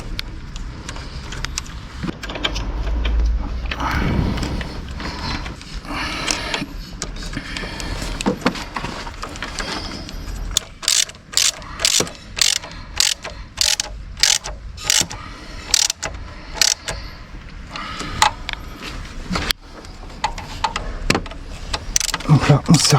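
Ratchet tightening the screws on the high-pressure fuel pump of an Audi A1 8X 1.2 TFSI, heard as repeated rapid clicking bursts that grow more regular in the second half, up close, with occasional talk.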